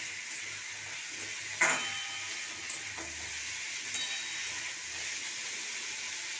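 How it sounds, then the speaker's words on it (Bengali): Potato and eggplant pieces fry in a pan with salt and turmeric, giving a steady, even sizzle with a few sharp clinks of stirring, close and without talk. "চাপা দিয়ে দিয়ে ভালো করে ভেজে নেবো আলু বেগুনটাকে।"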